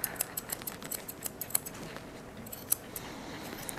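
Scissors snip a Westie dog's foot fur during grooming, a quick run of light, close metallic clicks in an uneven rhythm with a few sharper snips and no talk.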